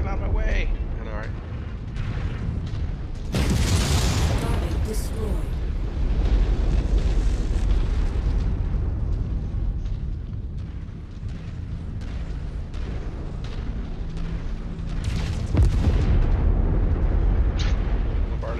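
Destroyed mechs blow up in the MechWarrior 5 co-op battle, with heavy rumbling booms and a sharp blast that stand out against dense combat noise, while players talk over the action.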